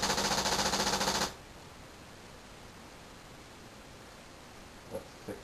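X7 paintball machine gun, laser-activated and motion-detecting, firing a rapid close burst of about a dozen pulsing shots that stops abruptly, leaving steady hiss and a couple of faint knocks.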